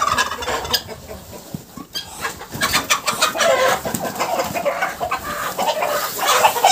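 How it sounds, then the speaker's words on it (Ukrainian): Loud, chaotic squawking and hissing from Muscovy ducks fighting while mating close by, with flapping bursts and continuous agitated bird noise throughout. "Ось такі в нас спарювання у індокачок."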